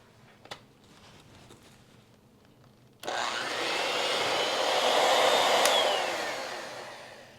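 An electric hand mixer runs on low through coconut cookie batter, starting abruptly after a quiet stretch and whirring steadily, slowly swelling and then easing off toward the end.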